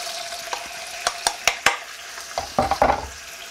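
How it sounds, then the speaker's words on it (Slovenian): Chicken going into hot oil and frying, a steady close sizzle broken by several sharp crackles and spits that cluster toward the end, with no voices. "piščanca damo zdaj v olje"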